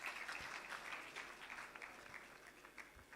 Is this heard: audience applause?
yes